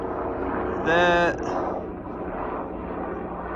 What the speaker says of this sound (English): might be a life flight helicopter.